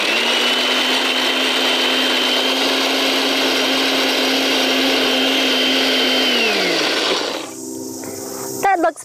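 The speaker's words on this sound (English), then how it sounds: "I'm going to blend only half at a time because this blender isn't very powerful" A small, not very powerful blender grinds almonds into nut flour with a loud, steady whirring roar that winds down near the end, followed by a brief rattle.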